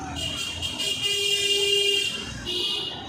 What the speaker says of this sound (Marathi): आता कधी बघा तुमच्या कानावर ट्रॅफिकच्या हॉर्नच्या आवाजच असतात